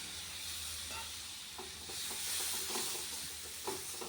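Onion, ginger-garlic paste, green chillies and spices fry in oil in a wok, giving a low, steady sizzle with a few soft stirring scrapes, heard quietly and without talk.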